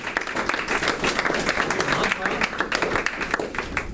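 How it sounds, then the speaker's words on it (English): A crowd claps warmly for a speaker at a Pathway2Grow book review event, dense and steady throughout, with some voices mixed in. "if you can give a nice warm round of applause for Ian"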